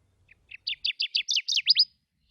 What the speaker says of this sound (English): the Kirtland's warbler.